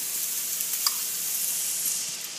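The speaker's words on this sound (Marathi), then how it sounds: "थोडंसं दोन्ही बाजूंनी तूप सोडायचे" Ghee poured over cooked sweet coconut rice (narali bhat) in a pan, giving a steady soft sizzle and hiss throughout, close and even with a few faint pops.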